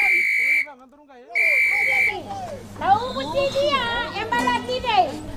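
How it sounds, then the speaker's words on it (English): A loud, steady whistle tone blasts twice with a short gap between as a flood warning signal, followed by children's voices chattering and calling out. "That whistle sound is for who?"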